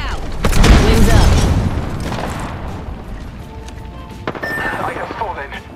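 Thermite and frag grenades go off in a first-person shooter match, a loud rumbling explosion swelling in the first two seconds, then fading into scattered gunfire and a second, smaller burst near the end, with players talking over it.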